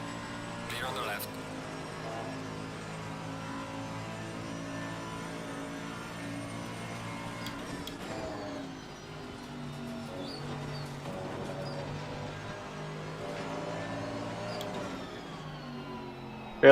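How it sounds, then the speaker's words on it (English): A video game Mercedes-AMG GT3 race car engine drones steadily at the Nurburgring, its pitch rising and dropping as it shifts through gears, with a few sharp ticks along the way. "We're driving the Mercedes GT3 2015"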